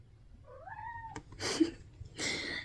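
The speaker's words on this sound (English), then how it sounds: "That's my cat, Halen." A cat meows with a rising, drawn-out call, followed by a couple of short rustling noises nearby.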